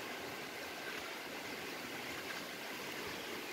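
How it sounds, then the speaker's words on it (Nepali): Rain and wind outdoors during a safari, a steady broadband rush of falling water and gusting air, fairly faint and continuous with no talking. "एकैछिनमा पानी आउन थाल्यो हावा नि आउन थाल्दैछ"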